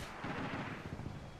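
Short bursts of automatic gunfire from a high-recoil weapon in Modern Warfare 2, a free-for-all match on the Rundown map, fired from a rooftop vantage point; two or three rapid rounds per burst, dense and booming, with no talk over it.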